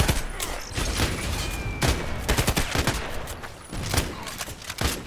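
Gunfire in the online shooter Contract Wars, dense bursts of rapid automatic shots with sharp cracks in quick clusters, loud and close, with no talk over it.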